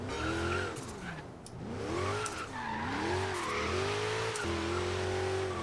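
Tires squeal and slide continuously as a jeep drifts in Forza Horizon 3, its torquey engine droning underneath with rising and falling revs, loud and close throughout.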